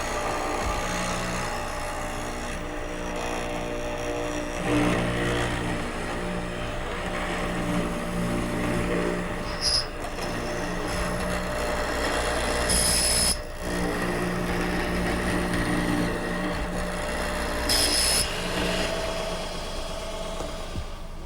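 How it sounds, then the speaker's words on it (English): A hollow chisel mortiser cuts a mortise into a wooden stile for a child's high chair, with a continuous moderate motor hum and occasional sharper squeals and knocks as the chisel plunges into the wood. "To cut the mortise in the stile, I'm going to use my hollow chisel mortiser."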